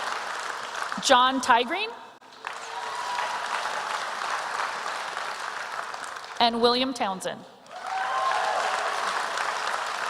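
Commencement audience applauding at an executive MBA graduation, a steady broadband wash of clapping that fills the gaps between two brief bursts of a voice reading out graduates' names, with the applause swelling after each.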